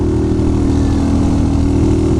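A motorcycle engine drones steadily while riding on the road from Bicol to Manila via Camarines Norte, loud and close with a constant low rumble and no talking.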